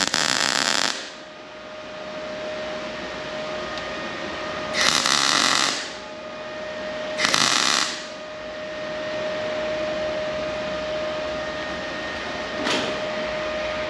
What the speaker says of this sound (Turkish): Ayaklar da kaynak kapıyoruz şimdi.